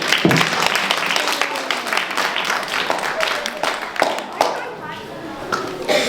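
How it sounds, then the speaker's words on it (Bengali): Audience applause at a Bengali New Year cultural event, a dense steady patter of many hands clapping in a hall, with voices and chatter mixed in throughout. "দাদু দিদাদেরকে একটু হাততালি দিতে হবে"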